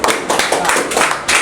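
A small group claps in a coaching-class quiz after a correct answer, several bursts of quick hand claps over about a second and a half, fairly loud and close, with no talking over them.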